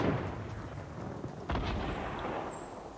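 Gunfire in the video game Fortnite: a sharp, loud shot bursts out midway over a steady background rumble of other distant game noise, with no talking.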